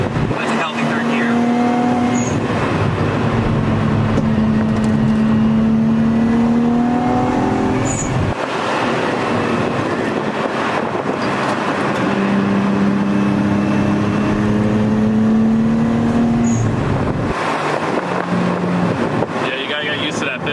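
A motor-swapped Nissan 370Z pulls hard in third gear, its engine note climbing in long rising sweeps with a short break between them, loud from inside the cabin with wind noise and voices talking over it.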